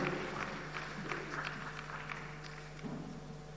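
A crowd claps to welcome a speaker at the National Democratic Congress launch of the TEIN app. The applause is a fairly faint, steady patter of many hands, with a constant low electrical hum underneath.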